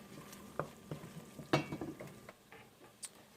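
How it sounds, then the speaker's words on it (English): Indomie noodles being stirred with a dissolving stock cube in a pot, soft scraping and light clinks at irregular intervals over a faint simmer, quiet and close. "And then stir them together and make sure that the stock cube are all dissolved."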